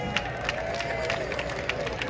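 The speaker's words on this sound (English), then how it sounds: "Once more, give Dougie a round of applause" Crowd applause at an evening jazz concert in a pan yard, with scattered claps and a busy murmur of voices, moderately distant and continuous.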